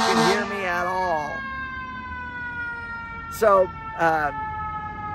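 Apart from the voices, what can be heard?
emergency vehicle siren passing outdoors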